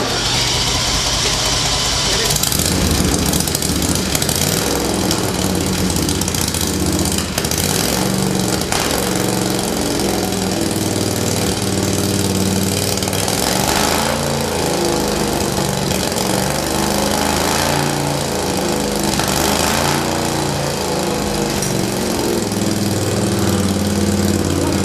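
A student-built formula race car engine runs steadily, a loud, continuous mid-pitched mechanical drone like a small engine idling, with a few surges in tone and no talking over it.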